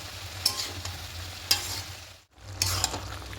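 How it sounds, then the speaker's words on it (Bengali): Boiled vegetables, spinach among them, are stirred in a pan, with a few clear scraping strokes of a spatula over a soft sizzle and a brief silent gap before the stirring resumes, with no one talking. "এই যে খুব ভালো করে মিশিয়ে নেব।"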